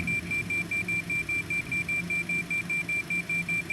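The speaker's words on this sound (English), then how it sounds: "Now, actually, this alarm might be a marker." A marker beacon tone sounds in the X-Plane 12 Citation X cockpit, a steady series of short, evenly spaced beeps repeating about three times per second over low cockpit hum.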